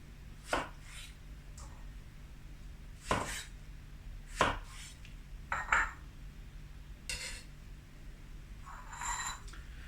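A knife chops through tomatoes on a board, quartering them for a lamb potjie: a handful of sharp, separate cuts spaced a second or two apart, close and clear, with light clinks between them and no talking.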